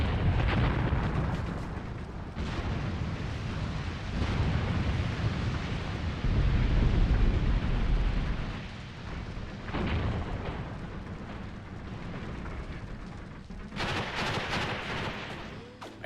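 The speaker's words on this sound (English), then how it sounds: "look at that additional bombing run right there." Bombing run in a modern war video game set in Africa, with South African forces attacking Angola: repeated deep explosion rumbles roll and overlap across the stretch, loud booms fading between blasts, no talking.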